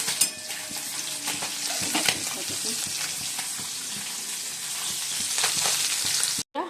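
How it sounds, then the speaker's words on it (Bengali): Fish frying in oil in a pan in a home kitchen, a close, bright crackling sizzle with stirring and utensil clicks scattered through it, ending with a sudden short drop to silence. "মাছটা ভাজছি"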